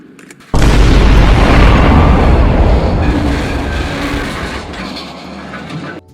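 Landmine explosion on a bridge in the film Escape from New York, a sudden loud close blast erupting into a long heavy rumbling roar that slowly fades over several seconds.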